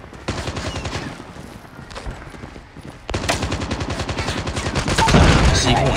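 Gunfire in the Call of Duty Mobile video game: rapid automatic bursts crackle steadily, a quieter stretch of fire giving way to louder, denser shooting that builds toward the end, with no voices over it.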